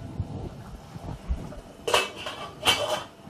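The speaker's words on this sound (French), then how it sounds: "On mélange bien et on laisse poursuivre la cuisson." Two sharp metallic clinks from a utensil striking a cooking pot while vegetables and coriander are stirred, following a stretch of quiet, faint rustling.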